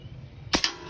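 A single sharp gunshot cracks, followed almost immediately by a metallic ping of the bullet striking a black steel plate target.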